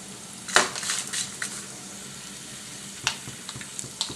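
A handful of dry curry leaves crackle and sizzle in hot oil in a pan, with sharp spitting pops over a steady frying hiss and a few light utensil clinks.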